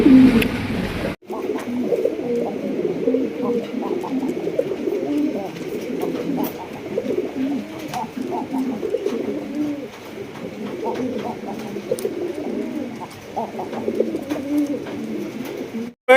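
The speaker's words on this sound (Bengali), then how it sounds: "এখানে রয়েছে আরো এক জোড়া কালারিং রাজগোল্লা কবুতর" Colored Rajgolla pigeons in a loft cooing steadily, overlapping soft throaty coos from several birds close by, continuing throughout with light background chatter.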